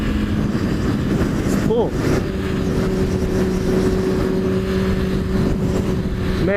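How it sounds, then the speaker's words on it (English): A Dodge SRT Jeep engine rumbles close by in traffic, a loud steady drone with a quick rising rev early on, buried in constant wind and road noise while a voice speaks briefly. "Oh, that's the SRT Jeep."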